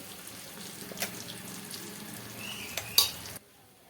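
Stuffed bitter gourd fry is stirred with spice powder in a pan, giving a soft continuous sizzle with occasional scraping clacks of the spoon, close and fairly quiet before cutting out.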